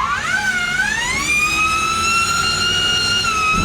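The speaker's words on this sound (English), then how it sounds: "that was the new Mustang Mach-E 1400, a one-off production-built vehicle" A loud, high electric whine from the all-electric Ford Mustang Mach-E 1400, a one-off build, rising and then holding in pitch like a siren, close and continuous.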